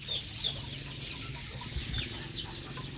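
Chickens on a rural Thai farm cluck softly and intermittently at a distance, with a few brief higher chirps over a steady outdoor ambience, with no one talking.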